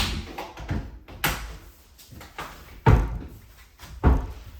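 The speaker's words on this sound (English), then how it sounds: "Snap the door back into place." An Ikea kitchen cabinet door is pressed and snapped into place, with several sharp knocks and thuds in an irregular rhythm, the loudest two close to the end.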